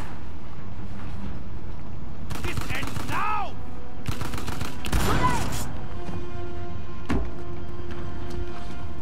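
Sniper gunfire in Uncharted: The Lost Legacy, a few sharp shots spaced across a tense game scene with broadband bursts and ringing ricochet-like whines, moderately loud over a steady background bed.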